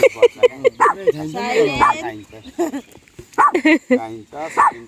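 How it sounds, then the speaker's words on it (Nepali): A dog at a campsite in Nug Nug barks at a person, short sharp barks coming in bursts close by, mixed in with people talking. "उही मान्छे देखेर भुक्दैछ"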